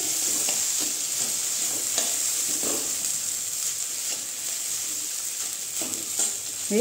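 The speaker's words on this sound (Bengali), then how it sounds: "লেবুর রস দিয়ে আমি ভালো করে এখন মিশিয়ে নিচ্ছি।" Lemon juice is stirred into sago khichdi in a pan, with a spoon scraping in irregular strokes over a steady sizzling hiss from the hot pan, close by and with no talking.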